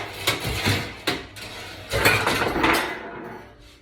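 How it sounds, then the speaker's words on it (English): Metal pans fall and clatter in a home kitchen during cooking, several loud clanging hits and rattles in quick succession, up close and with no talk. "My pans are falling all over the place."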